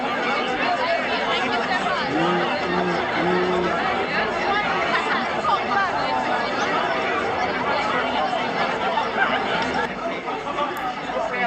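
A large crowd at a live concert murmurs and chatters continuously, a dense babble of many voices that stays fairly loud and even throughout.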